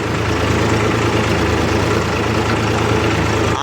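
A tractor engine running at low RPM while pulling a spring cultivator plough through a field, a loud steady diesel drone with an even low throb and no breaks.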